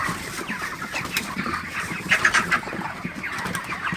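Broiler chickens cluck in a busy chorus close by, short overlapping calls rising and falling over a low farm-shed murmur.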